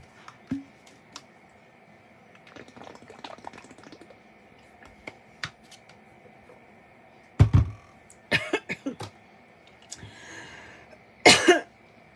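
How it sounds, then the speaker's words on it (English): A few sharp coughs break a quiet room, a single one first and then a short burst, with faint clicks and shuffling between them. "I knew on the first sip I was going to cough doing that."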